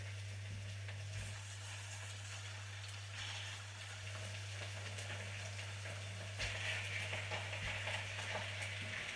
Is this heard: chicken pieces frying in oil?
yes